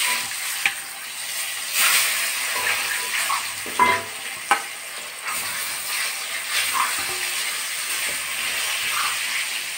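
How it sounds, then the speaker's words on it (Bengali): Slit boiled eggs fry in a pan, giving a continuous sizzle and hiss with scattered sharp pops and spatters, close up and fairly loud, with no talk. "তাহলে আমি ডিমগুলো আগে ভেজে নিই।"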